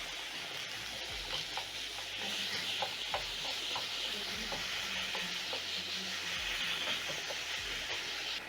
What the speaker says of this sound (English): Using my spatula, I'm going to break down the minced meat as it cooks.